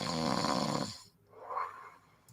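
A man snores loudly in one long, rasping inhale, then a short, softer snort follows after a brief pause, heard close and alone.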